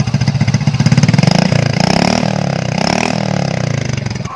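A Honda Supra motorcycle engine with white-smoke trouble revs loud and close, its rough pulsing note rising under the throttle, then settling back into a sustained, slightly falling drone.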